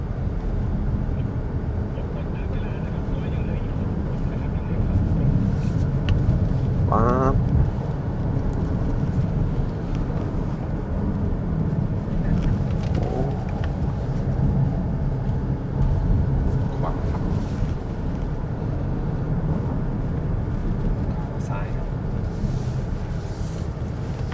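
A BYD Song Plus DM-i car is driven through a tight curve, giving a steady low road and wind rumble from inside the cabin, continuous and fairly loud, with brief faint squeaks.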